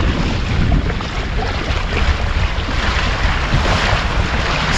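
A small sailboat running on a broad reach along the Texas Gulf Intracoastal Waterway, with loud, continuous rushing water and buffeting wind against the microphone close by and steady throughout.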